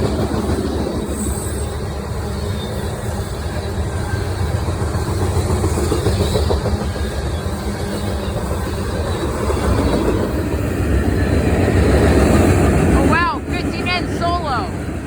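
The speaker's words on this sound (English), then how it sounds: "A surprise CSX eastbound manifest sped through Berea." A CSX eastbound manifest freight train with BNSF grain cars rolls steadily past up close, a continuous loud rumble of wheels and cars with brief metallic wheel squeals near the end.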